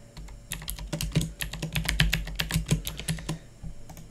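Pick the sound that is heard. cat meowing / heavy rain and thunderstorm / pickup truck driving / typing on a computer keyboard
typing on a computer keyboard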